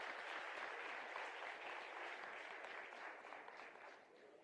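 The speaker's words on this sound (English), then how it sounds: "A round of applause for Mr." Steady applause from an audience at a national skills competition closing ceremony carries on throughout, fairly distant and gradually tapering off.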